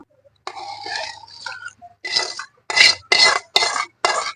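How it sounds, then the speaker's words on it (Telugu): Cooled tempering is poured into mango pickle and mixed, heard as a series of close scraping, clinking stirs of a spoon in a pot, coming in short bursts, the last several evenly spaced. "మనం తాలింపు వేసుకున్నది చల్లారిపోయిందండి ఇప్పుడు మనం పచ్చడిలో పోసుకుందాం"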